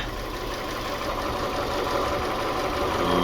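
A Fiat 500 with the 1.2 engine idles during a service, a steady close mechanical hum with a faint knocking texture that holds even and slightly grows across a few seconds.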